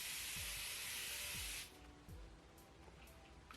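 Bioderma Hydra Bio Mist sprays from a large hairspray-sized aerosol can in one continuous, bright, close hiss lasting over a second and a half, then stops, leaving faint handling sounds.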